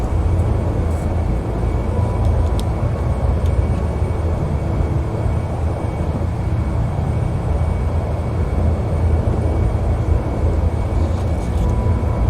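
Steady broadband engine drone of an airliner idling before takeoff in Microsoft Flight Simulator X, a continuous low rumble with faint whine, uninterrupted and without talk.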